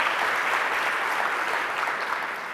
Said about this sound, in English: That is worth an applause.